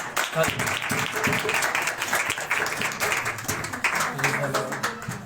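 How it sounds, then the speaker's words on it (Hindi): An audience claps to welcome Pastor Imran Bhatti, a sustained ripple of hand claps from a gathered crowd, with a voice speaking over the applause. "आप सबकी तालियों की गूंज में मैं उनको वेलकम करता हूं।"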